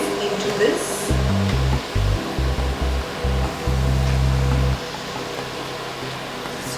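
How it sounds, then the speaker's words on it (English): Water at a rolling boil in a cooking pot with chilies added, a steady hissing, bubbling rush that runs throughout, broken by bursts of low rumbling noise. "our water has started to boil and I'm going to add these chilies into this"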